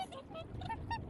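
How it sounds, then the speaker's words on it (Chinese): Geese on an Icelandic glacier lagoon honking in a quick series of short nasal calls at moderate distance, with a voice partly over them. "这是加拿大鹅吗？"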